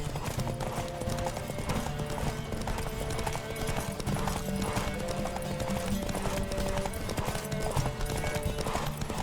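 A horse gallops hard in The Witcher 3, its rapid clip-clop rhythm loud and continuous over sustained musical chords, with a hint of a whinny.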